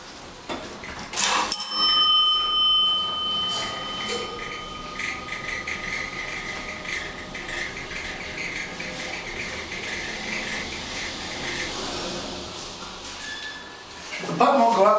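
A 1950s Dover traction elevator at Calhoun Hall starts with a sharp bell-like ding and clank, then runs with a steady mechanical hum and rattle, with faint talk in the background before a closing clatter.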